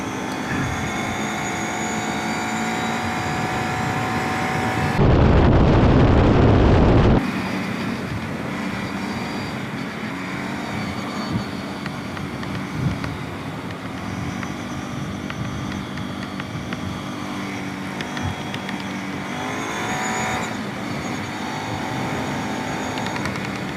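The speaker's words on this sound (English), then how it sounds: "I gotta say, this Bruteforce 750 hauls ass." A Kawasaki Brute Force 750 ATV in two-wheel drive roars along at speed on a fast run, its engine a loud, continuous drone with shifting pitch, broken by a brief burst of heavy wind rush.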